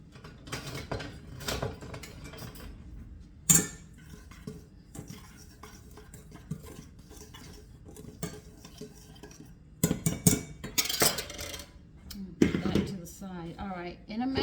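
A spoon stirs a mushroom scone mixture heavily seasoned with black pepper in a bowl, producing irregular scraping and clinking with a few sharp knocks, soft overall, while someone talks.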